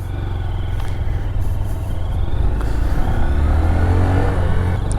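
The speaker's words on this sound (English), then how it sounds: "with it being a stock Grom, it sounds that of a refrigerator with the stock exhaust." A stock 2022 Honda Grom motorcycle with its stock exhaust pulls away, a steady low engine rumble building gradually and staying loud and close throughout, with no talking.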